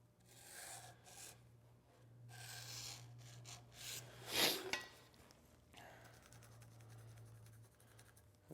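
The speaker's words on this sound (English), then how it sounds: "I'll use a straight edge to mark the top and bottom edges here" A pencil or marker scratches along a straight edge to mark the top and bottom edges of a wooden bench part, giving soft rasping strokes with one louder stroke near the middle over a low steady hum.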